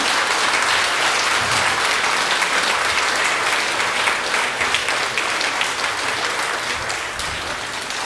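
Loud, sustained applause from an audience at the Otwarte Serca 2017 event greets a music school teacher, with even, close clapping throughout that eases slightly toward the end.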